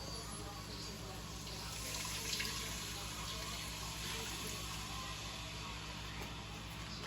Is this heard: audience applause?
no